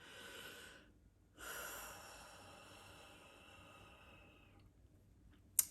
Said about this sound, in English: please close your eyes with me and let's take a breath